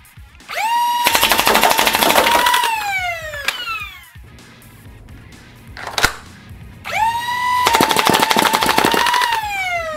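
A Nerf P90 toy blaster fires darts with a flywheel launcher in two long bursts, each a rapid rattling volley over a rising then falling whine as the flywheels spin up and down, with a sharp click between the bursts.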